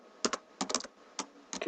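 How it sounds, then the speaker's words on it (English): Quick bursts of computer keyboard typing as code is entered for a game script, four short clusters of keystrokes separated by brief pauses, close and clear with no talking. "So I'm going to type in lock cursor."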